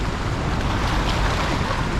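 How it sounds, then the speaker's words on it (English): Heavy, steady rush of water pouring through a big hydroelectric dam, a dense broadband roar that stays loud and unbroken throughout with no voices. "that's where they let water through, hits those turbines, powers the generators"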